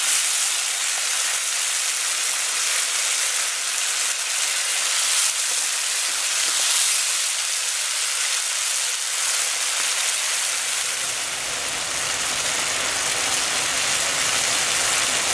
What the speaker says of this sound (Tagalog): Hintayin lang natin kumulo yung suka o yung vinegar.